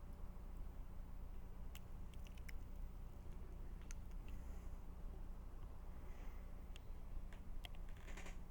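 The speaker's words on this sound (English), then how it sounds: "This is why I hate the typing." Faint clicks of keys being typed on a computer keyboard come in scattered, irregular bursts over a constant low hum.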